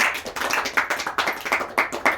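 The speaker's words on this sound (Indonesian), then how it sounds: "Tepuk tangan untuk Vira." A small group claps for a classmate during a group counseling session, roughly a dozen quick, slightly uneven hand claps in a short close-up burst with no talking.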